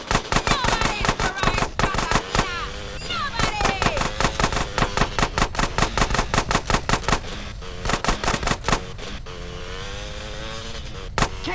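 Rapid automatic gunfire in the video game GTA San Andreas, dense bursts of shots rattling almost continuously with engine noise and game effects underneath, while someone talks over the action.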